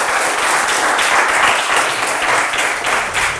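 A game show studio audience applauds a winner, with continuous loud, even clapping throughout.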